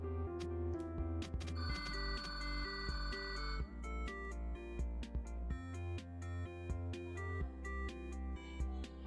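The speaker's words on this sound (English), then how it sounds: "Sorry about that, my phone rang." A mobile phone rings with a repeating melodic ringtone over layered background music. The tones are clear and sustained, and no one talks.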